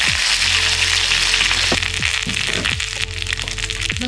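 Mustard seeds, green chili and curry leaves sputter and crackle in hot coconut oil. The popping is loud, close and continuous over a steady sizzle, with no voices.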